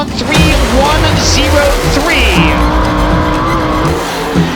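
A World of Outlaws race car on a qualifying lap at Eldora Speedway roars loudly and steadily, its engine pitch rising and falling through the turns, while a commentator talks over it.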